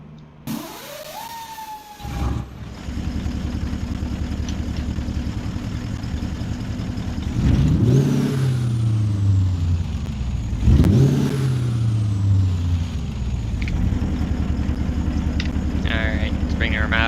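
A semi truck engine in American Truck Simulator cranks and fires up, then settles into a steady diesel idle with two revving swells that rise and fall before returning to idle. A brief electronic chime sounds near the end.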